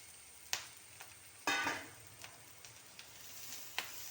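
Jackfruit flower fibres and green chillies hit hot oil with a sudden burst of sizzling, then settle into a faint, crackling fry with scattered sharp pops and ticks.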